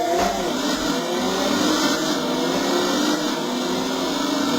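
A small early-1980s 125cc racing motorbike in the game Riding Spirits 2 holds a high, steady engine whine at speed throughout, loud and continuous with no talking.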